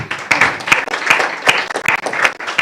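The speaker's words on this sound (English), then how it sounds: "Let's clap for them." Audience applause at a graduation ceremony, a steady burst of many hands clapping for a team, fairly close and lively throughout, with no voices over it.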